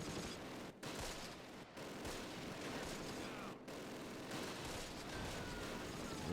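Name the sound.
blind gunfire at squads in Close Combat video game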